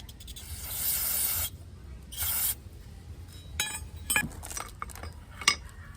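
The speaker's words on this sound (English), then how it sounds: "now we'll just hit it with some brake cleaner" Brake cleaner sprays onto the rear brakes of a 2018 Honda Accord in two hissing bursts, a long one then a short one, followed by light metallic clinks and rubbing.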